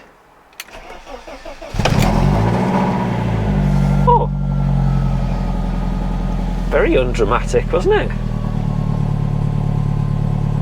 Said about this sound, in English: It's started and it's idling quite nicely.